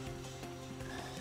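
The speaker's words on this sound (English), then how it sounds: "Did you guys hear a croak?" Frog croak from the Sonic Heroes video game, a short low throaty call with buzzing harmonics, fairly close and sounding alone.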